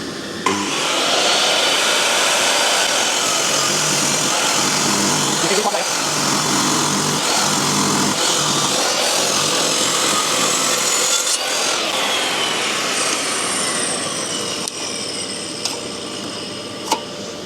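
A power saw cuts through a wooden slide in one long, loud, continuous rasping pass, close up, with brief changes in pitch and a taper toward the end of the cut.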